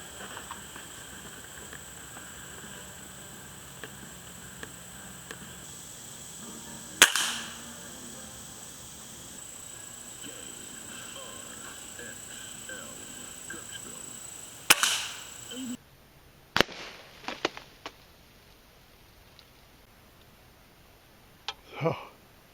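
Beeman Silver Kodiak air rifle fired on an outdoor range: a few sharp, isolated shots spaced many seconds apart over a faint steady background hiss, with some small clicks and handling noises near the end.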